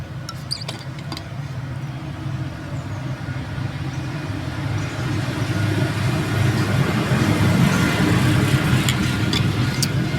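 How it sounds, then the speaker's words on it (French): A tractor passing by outside rumbles as a low engine drone that swells gradually from moderate to louder over about ten seconds, with a few faint clicks and no talking. "je crois qu'il y a un tracteur qui va passer et faire du bruit"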